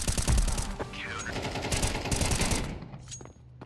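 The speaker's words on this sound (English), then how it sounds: "Teammate just shotgunned the shit out of that guy." Gunfire in Counter-Strike 2 with rapid repeated shotgun blasts and bursts that crackle for a few seconds, loud and close, before cutting off into a short quieter tail.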